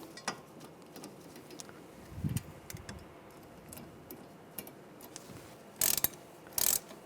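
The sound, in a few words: tightening brake caliper guide pins on Mercedes-Benz E350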